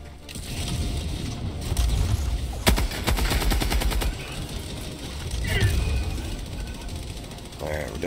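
A gun fires in the shooter game Helldivers 2, cutting through a noisy battle. A rapid machine-gun burst lasts about a second, followed by scattered impacts and rumble, with a voice talking throughout.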